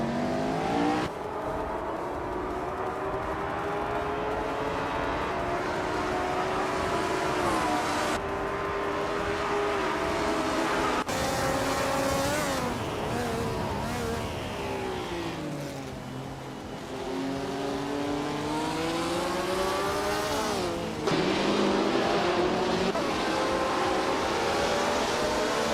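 Race cars, among them a 1962 Porsche 804, roar through a video game race, engines whining and shifting pitch continuously as cars accelerate and pass, with no break in the noise.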